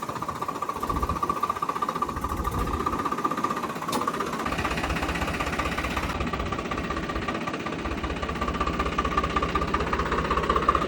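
A tractor engine runs steadily at a constant rhythmic chug, moderately close and unbroken, with no talk over it.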